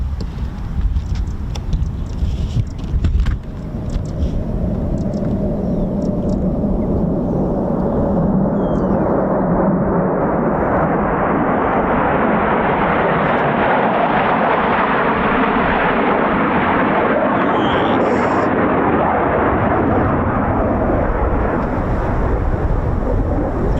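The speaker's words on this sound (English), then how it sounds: "So we've got inbound F-35s" Several F-35B stealth fighter jets of 809 Naval Air Squadron, 617 and 207 Squadron at an RAF air station approach and pass, a loud broadband roar building and sweeping steadily overhead for over twenty seconds, with no talk.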